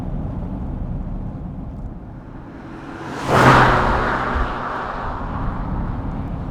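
A Daimler Double Six V12 cruises in third gear at a relaxed 2100 rpm, giving a steady low rumble and road roar throughout. A brief whooshing swell rises midway, and no one talks.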